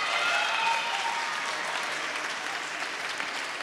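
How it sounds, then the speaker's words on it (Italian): At an award ceremony for a language contest, an audience gives steady, full applause for the winners, a dense wash of clapping that holds evenly throughout. "fate un bel applauso a tutte"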